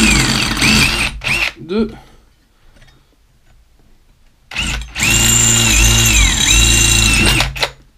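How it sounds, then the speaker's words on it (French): Power drill boring three holes into a pipe, two loud sustained whining bursts with spin-up and spin-down, separated by a quieter gap with brief talk near the start. "On va se faire 3 trous vite fait là-dedans."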